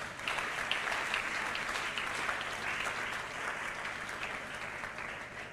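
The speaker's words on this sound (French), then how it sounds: "Acclame très fort là où tu es." An audience at a church service applauds loudly and steadily, a dense crowd clapping that fills the whole stretch without pause.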